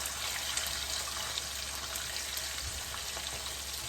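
Mrigal fish frying in hot oil, a steady broadband sizzle that holds evenly throughout, close and moderately loud with no voices.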